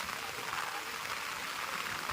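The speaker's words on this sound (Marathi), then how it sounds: "पाऊस खूपच मोठा आला आज" Heavy rain pours steadily over village farmland, a dense, unbroken hiss of falling water with no gaps, fairly soft in level.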